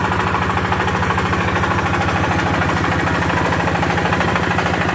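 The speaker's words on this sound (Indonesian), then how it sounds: "Kali ini untuk RK Audio membawa diesel" A diesel generator powering a sound system at a village celebration runs steadily throughout, with a loud, even, throbbing engine drone and no talk.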